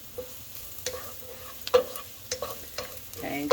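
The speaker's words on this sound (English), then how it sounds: "It's the sizzling." Garlic sizzles in a frying pan with a soft, continuous hiss, broken by light scraping taps of stirring at irregular intervals.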